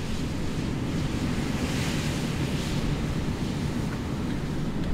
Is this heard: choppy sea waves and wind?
yes